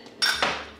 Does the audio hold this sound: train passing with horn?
no